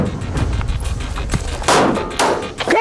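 Gunfire during military shooting exercises: several loud, sharp shots crack in an uneven sequence, close by, with a couple of heavier reports toward the end and no talk.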